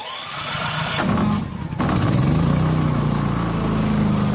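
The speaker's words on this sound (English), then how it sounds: "That just allows the battery to power the starter whenever you press the button." A Champion 3400 watt inverter generator running on propane is started with its electric starter, giving a brief cranking whir and then catching into a steady, fairly loud mid-pitched engine hum that carries on to the end.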